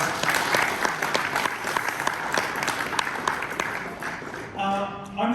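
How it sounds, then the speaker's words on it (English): A large audience at an AIBF Ireland 2024 event gives dense, sustained applause for the organisers, loud and steady, thinning near the end as a voice briefly begins to speak over it. "I think they deserve a massive round of applause."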